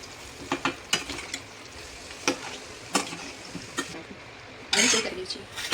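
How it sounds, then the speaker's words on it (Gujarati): Patra, rolled colocasia leaves, being gently stirred in a pan: a series of soft scraping strokes and light clinks over a faint sizzle, ending in a louder, longer scrape. "પાત્રા નાખીને પછી હળવા હાથે મિક્સ કરવાનું છે એટલે રોલ તૂટે નહીં।"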